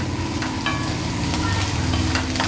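Dried fish (sukat) sautéing in hot oil in a pan, giving a steady close sizzle with a few light scrapes of stirring throughout, no talk.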